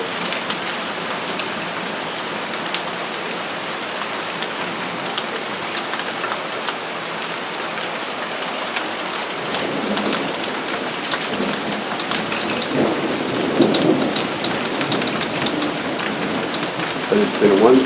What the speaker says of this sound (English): But it's been one continuous roll of thunder throughout the last 15 minutes.